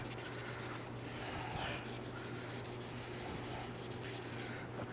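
Steady rubbing and scraping of sandpaper by hand on a knife handle, continuous back-and-forth strokes heard up close over a low background hum.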